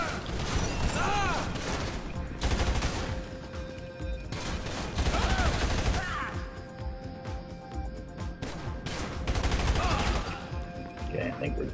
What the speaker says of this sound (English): Oh, they're shooting right away.